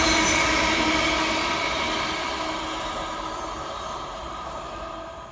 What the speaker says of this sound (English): LNWR Class 350 train also heads north.